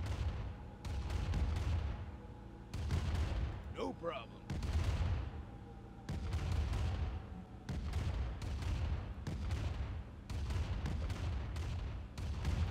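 Gunfire and grenade blasts in the Command & Conquer Renegade game come as repeated loud bursts of booms and shots, broken by short pauses, with a brief whistling sound in the middle.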